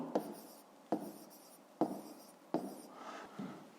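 Pen writing out a math exercise on paper, close and quiet, with a few distinct strokes and taps at a steady, unhurried rhythm and no talk.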